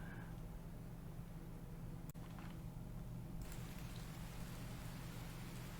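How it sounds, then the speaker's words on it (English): Rain falls steadily in the survival video game The Infected, a constant soft wash of drizzle with a faint low rumble and one brief click. "So it's raining again."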